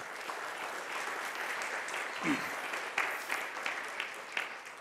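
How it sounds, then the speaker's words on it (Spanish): Congregation applauding during a church sermon, a steady moderate clapping from the room with a few brief voices rising above it. "Dale un fuerte aplauso al Señor."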